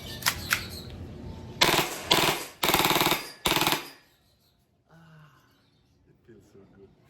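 AA AAP01 airsoft gun firing a rapid string of loud, buzzing bursts, several short shots followed by longer sustained volleys, then stopping into near silence with faint handling sounds.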